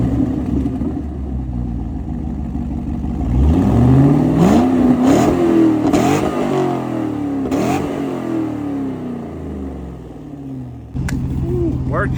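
A Corvette with an LS2 V8 and muffler-delete exhaust revs up in a rising sweep, holds, then falls back through several blips before settling to a steady, loud idle close by.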